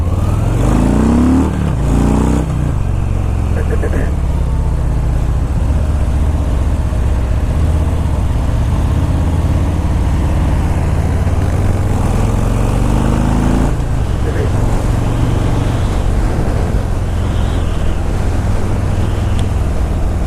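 A 2018 Harley-Davidson Breakout 114 engine rumbles loudly and continuously while riding, with a deep throbbing drone and shifts in pitch as it revs, mixed with rushing wind.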